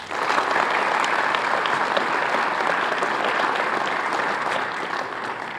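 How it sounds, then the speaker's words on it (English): A roomful of people claps steadily and densely at the 2017 Otto Graham Awards ceremony for coaches and nominees, a continuous, even burst of applause without talk that eases slightly near the end. "Give yourself a nice round of applause."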